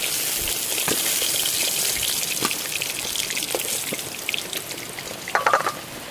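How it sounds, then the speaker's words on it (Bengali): Fish, a sea catfish (rita aar), frying in hot oil, giving a steady crackling sizzle throughout with scattered pops and a brief louder bubbling burst near the end. "সব মাছ ভাজা হয়ে গেছে, তুলে নেবো।"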